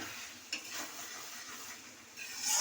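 Spinach and fish-bone chorchori, made with Malabar spinach, is stirred in a pan over raised heat. A soft, steady sizzle runs under faint scraping strokes, all quiet, with no talking.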